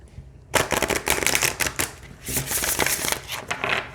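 Oracle cards are riffle-shuffled nearby in several quick, crisp fluttering bursts with short pauses between them.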